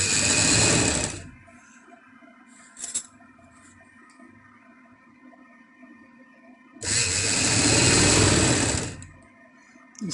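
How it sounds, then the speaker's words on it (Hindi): An electric sewing machine stitches fabric for a double-layer frill frock in two loud, close bursts, one short at the start and a longer run near the end, with quiet handling of cloth and a faint click between them. "अब हम जो सेंटर से दूसरी साइड पे सिलाई लगाएंगे"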